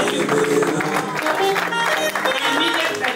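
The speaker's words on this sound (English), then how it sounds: "He deserves a second round of applause." Applause from an audience at an investiture ceremony for a professional council's president, steady and fairly loud throughout with mixed crowd noise and no clear speech.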